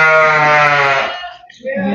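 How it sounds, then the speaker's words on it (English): Several goats bleat loudly at close range in a wildlife safari petting area, a strong wavering cry that breaks off, then a second call starts up. "Goats are hollering."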